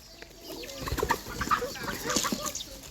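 Chickens cluck and peck about in a rural farmyard, a run of short, fairly close calls over about three seconds with no talk.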